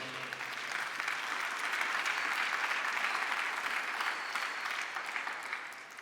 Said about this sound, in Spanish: dele un fuerte aplauso al Señor en esta noche